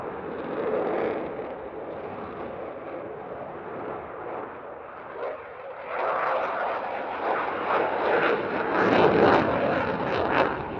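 A Dassault Rafale fighter jet flies at an airshow, giving a sustained distant jet rush that intensifies into a louder, harsher roar in the latter half before easing slightly.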